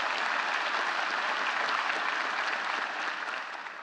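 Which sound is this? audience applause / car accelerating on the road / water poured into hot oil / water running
audience applause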